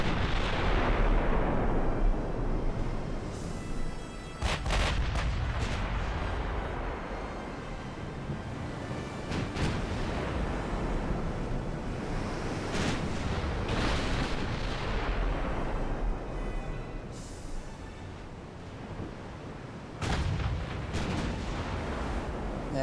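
Battleship guns, including 14-inch and 9-inch guns, fire in the naval game Ultimate Admiral: Dreadnoughts: heavy booming salvos over a continuous low rumble, with several sharp blasts spaced across the stretch and no talking.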